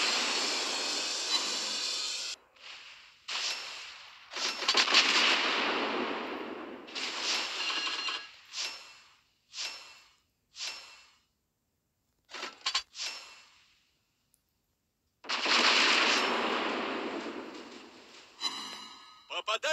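Gunfire in a naval combat video game: a series of sharp, loud shot bursts with abrupt cutoffs and brief silences between them, some clustered closely together, ending with a longer blast.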